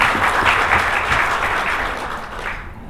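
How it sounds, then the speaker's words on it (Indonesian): An audience claps for Pak Widi at the close of a hospital software tutorial session, producing steady, full applause that fades slightly toward the end. "Kasih aplaus buat Pak Widi."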